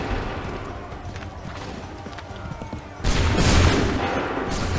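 Musket volley in Assassin's Creed 3, a loud crackling fusillade erupting partway through and rolling on with dense, booming gunfire after a quieter, tense stretch.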